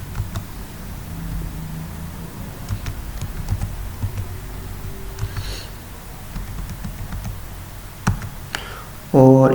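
HTML tags being typed on a computer keyboard: irregular, crisp keystrokes close up over a low steady background hum, with a brief louder burst of noise at the very end.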